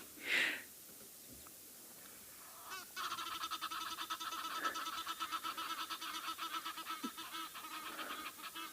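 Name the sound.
Egyptian geese calling while flying over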